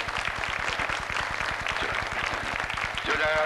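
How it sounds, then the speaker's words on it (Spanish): A large studio audience applauds loudly and steadily on an Argentine television talk show in 1992, a dense sustained wash of clapping with a regular low pulse running beneath it throughout. "nosotros desde acá le mandamos un aplauso muy grande"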